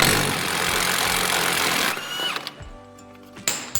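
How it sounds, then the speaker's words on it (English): A heavy-duty impact wrench spins off a 34mm axle nut on a Chevy Equinox during a wheel bearing repair, with loud continuous whirring for two seconds, then stopping amid clanks. "we can go ahead and pop this nut off of the axle shaft right here. There's a 34mm. Just get you a nice heavy duty impact on there."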